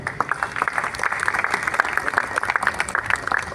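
Audience applause at a classical music festival in Vile Parle, Mumbai, for a tabla player: dense, steady clapping from a crowd, moderately loud and sustained throughout.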